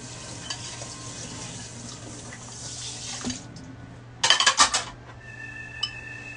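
Dishes being washed at a kitchen sink, with a steady hiss of running water, a clatter of dishes and cutlery, and a sharp burst of splashing and clinking partway through, fairly close and without talk.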